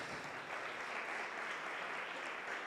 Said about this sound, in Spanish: pedir un aplauso para ellos,